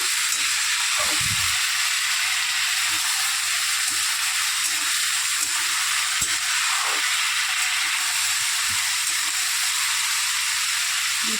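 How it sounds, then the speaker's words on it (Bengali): Onion and potato frying in oil with a dried red chili tempering, a steady close sizzle and hiss running throughout with a few faint stirring knocks and no talking. "এটা আমি শুকনো লঙ্কা ফোড়ন দিয়েছি"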